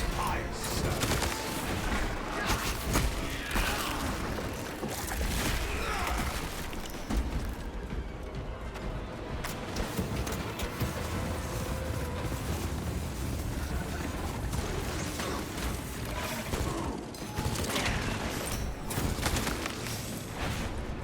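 A Pyrecannon heavy weapon firing in the Space Marine video game, dense rapid bursts of fire and explosions crackling continuously amid loud battle noise, with a voice speaking over parts of it.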